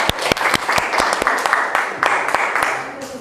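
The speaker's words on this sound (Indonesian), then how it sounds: "Oke, kasih tepuk tangan untuk kita." Classroom applause in a school lesson, students clapping in a lively patter with several sharp, close hand claps standing out, some voices murmuring underneath.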